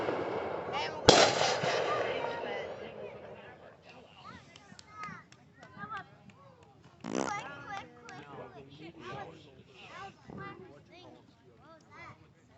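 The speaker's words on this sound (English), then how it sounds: "It's a firework, you ding dong." Fireworks at a July 4th family get-together: one sharp loud bang near the start and another burst midway, with people talking and calling out between the blasts.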